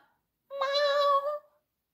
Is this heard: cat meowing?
yes